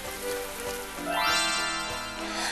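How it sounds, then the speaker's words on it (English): Rain beginning to fall in a children's animated story, a soft pattering wash that swells partway through alongside a rising musical tone, steady and close with no voices. "But she hadn't gone very far before it suddenly started to rain."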